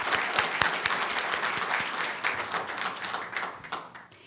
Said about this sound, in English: let's give Fontana Unified School District and its Fontana School Police Services a hearty round of applause